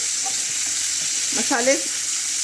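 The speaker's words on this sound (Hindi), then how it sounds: "अब हम इसकी साइड को चेंज करके फिर से 2 से 3 मिनट फ्राई करेंगे। इस तरह से तेज़ फ्लेम पर फ्राई करने से" Tandoori chicken frying over a high flame gives a steady, close hiss of sizzling oil, with a brief scrape or stir in the middle and no voices.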